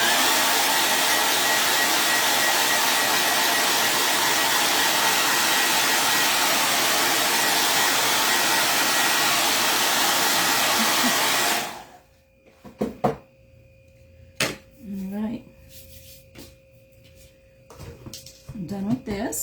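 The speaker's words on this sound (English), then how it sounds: "dryer again, it's gonna get loud" A hair dryer used for crafting a wreath roars loudly and steadily at close range for about twelve seconds, then cuts off, leaving quiet room handling noise.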